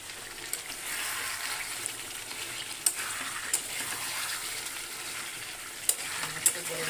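Jute leaves (pat shak) sizzle and fry steadily in a pan, a constant hiss with a few sharp clinks of stirring scattered through.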